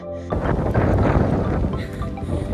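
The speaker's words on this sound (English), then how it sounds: "It's very windy up here." Strong, steady wind roars and buffets the microphone on a mountain top in Guadalupe Mountains National Park, Texas, after a brief quiet start, a dense low rumble that continues throughout.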